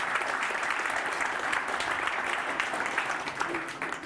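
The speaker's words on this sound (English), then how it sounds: "let's give another round of applause for Jerry and Guobin" A conference audience gives sustained applause, a dense, steady wash of many hands clapping at moderate volume that runs unbroken for about four seconds.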